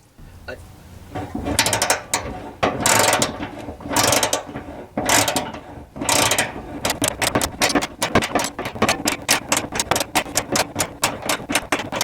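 A ratchet tightens the gas tank bolts near the axle of a Cadillac Brougham, rapid clicking in bursts that grow into a steady fast run of ticks, close up, with a little talk between strokes.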